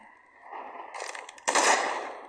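Game gunfire in a shooter where several players are fighting, with bursts of shots rising midway and a loud, dense volley near the end, fairly close.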